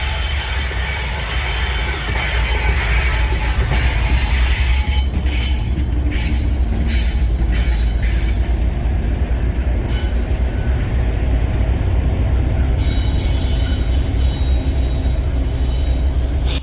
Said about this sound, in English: our first train was CSX H305, a helper set heading back to East Bernstadt